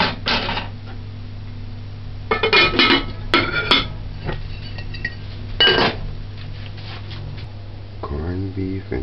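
Plates and cutlery clink and scrape while corned beef with green peas is dished up, giving sharp, irregular metallic taps and clatters close by, with a person speaking between them.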